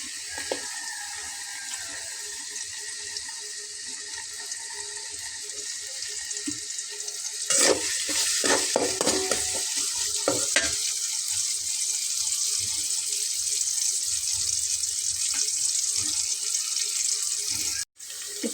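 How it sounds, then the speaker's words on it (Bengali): Chopped onions frying in oil on a stove for niramish bhindi posto: a continuous hissing sizzle throughout that jumps louder with a burst of crackling as the onions go in, then stays steady. "এটাতে আমি এখন পেঁয়াজ কুচিটা দিয়ে নেব"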